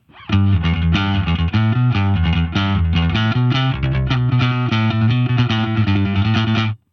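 A bass guitar through a Line 6 HX Stomp with a SansAmp-style preamp plays a steady line of quick notes in a lightly processed, slightly gritty tone, loud and continuous throughout, with no talking.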